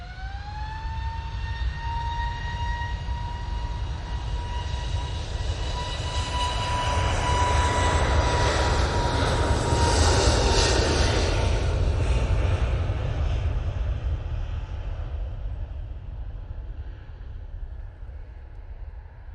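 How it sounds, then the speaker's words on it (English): An Airbus A321neo rolling for takeoff at Manchester Airport: a rising engine whine swells into a broad, heavy roar that peaks mid-way and then slowly fades, loud and continuous with no voices. "A321neo on the roll."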